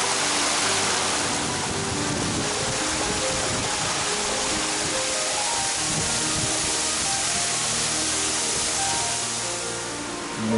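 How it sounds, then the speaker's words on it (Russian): Small waterfalls formed by piled rocks spill along a mountain stream in beech forest, making a loud, continuous hissing roar close by that holds steady throughout. "Надо же на ручье Деймень-Дере водопады, образованные навалом."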